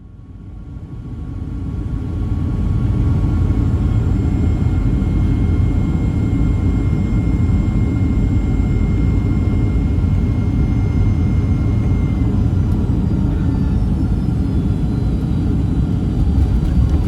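Boeing 757-300 jet airliner landing on runway 06 left at Palma, Mallorca, heard from inside the cabin: a loud, steady roar of engine and airflow rumble that swells in the first seconds and then holds.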